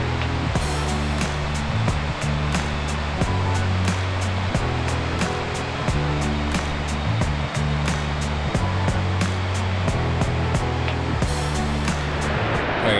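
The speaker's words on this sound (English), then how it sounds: "Got the waterfall right there" A waterfall roars in a dense, unbroken rush of water, loud and close, with a steady low drone running beneath it and occasional sharp ticks throughout.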